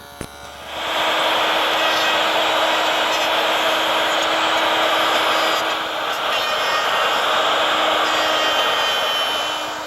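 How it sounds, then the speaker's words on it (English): A table saw with a stacked dado head set to a quarter inch cuts a groove in wood, starting with a sharp click and then holding a loud, steady high whine for several seconds. "Now with the stacked dado head reduced to 1/4 inch in width, I can run the groove for the bottom."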